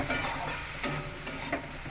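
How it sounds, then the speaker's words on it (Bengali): Potatoes fry in oil with salt, turmeric and chilli, a steady close sizzle broken by a few sharp scrapes and stirs of a utensil in the pan, with no talking. "এই যে আলুটা ভাজা হয়ে গেছে,"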